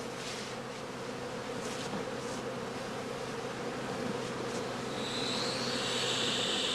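A colony of honeybees swarms around an emptied straw skep during a honey harvest, giving a steady, dense buzz that fills the air, with a higher whine rising near the end.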